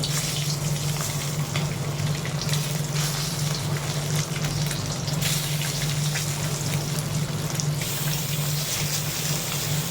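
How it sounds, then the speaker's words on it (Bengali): Eggs frying in hot oil in a pan for an egg curry, a steady close sizzle and bubbling that holds at the same level throughout with no talk. "একটা একটা করে দিয়ে দেওয়া হচ্ছে ডিমগুলোকে ভেজে নেওয়ার জন্য"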